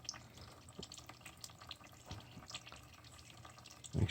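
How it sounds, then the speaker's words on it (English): Engine oil draining from a Yamasaki YM 125cc motorcycle, a steady trickling pour of liquid with faint splashes, a louder splatter near the end, no talking. "Make sure all the oil gets out."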